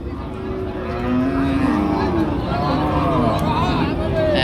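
Cattle low at a busy livestock market as trading begins, with deep drawn-out calls rising over a steady hubbub of crowd babble and nearby talk.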